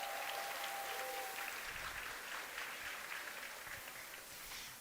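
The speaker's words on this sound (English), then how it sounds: "Give them a round of applause." A crowd at a jigsaw puzzle competition claps in steady, sustained applause for a sponsor, fairly distant and even throughout, with a faint tone briefly audible at the start.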